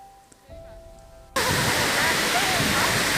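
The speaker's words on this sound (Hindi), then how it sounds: "तो काफ़ी नज़दीक आ चुके हैं हम झरने के" Waterfall at Amritdhara in Manendragarh, Chhattisgarh, crashing over large rocks: after a quiet start with faint hum, a loud, steady broadband roar of falling water bursts in and holds close and constant.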